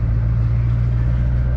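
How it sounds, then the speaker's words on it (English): A 4WD truck fitted with a 13k synthetic-rope winch idles as it is parked, a steady, close, low engine rumble holding evenly throughout with no talking. "Park the truck again here."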